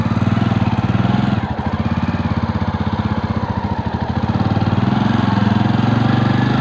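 A Jawa Perak Bobber 350 BS6 motorcycle engine thumps in a loud, close, steady pulsing beat as the rider sets off, its throb rising and easing slightly partway through, with no talking.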